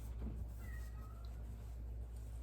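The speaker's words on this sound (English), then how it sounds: "cat's meowing" A domestic cat gives one faint, short meow in the background of a quiet indoor room at a sewing session, against a steady low hum and no other clear sounds.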